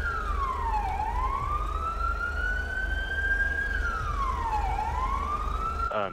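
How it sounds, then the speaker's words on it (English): A police car siren in the FiveM roleplay mod of a driving video game wails in long rising and falling sweeps, loud and steady, over a low continuous engine drone with no talking. "Yep, just cut my sirens, please."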